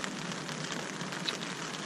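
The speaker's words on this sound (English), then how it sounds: "You'll probably hear that the rain's come as well, which is what we were expecting." Steady rain pattering on a surface at a wild camp on a beach, a dense even hiss of drops with an occasional louder tap, no voices.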